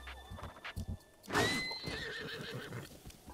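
A horse in The Legend of Zelda: Breath of the Wild whinnies loudly with a rising, shaky neigh, preceded by a few soft hoof clops and followed by quieter rhythmic clip-clopping.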